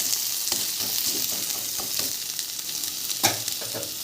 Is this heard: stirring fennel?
yes